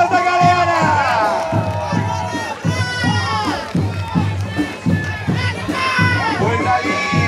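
A crowd at a race podium ceremony for the 2023 Holambra tourist run cheers and shouts throughout, a dense wash of excited voices with higher children's cries rising above steady crowd noise.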